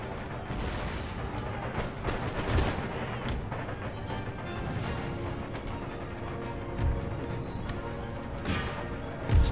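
Artillery fire in the video game Empire Total War: a constant battle din with dull cannon booms thumping out at intervals, one louder blast near the end.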